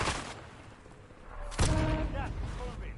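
Video game gunfire in Call of Duty Warzone: a loud shot burst partway through, with scattered crackling fire and game noise around it, over a steady background bed.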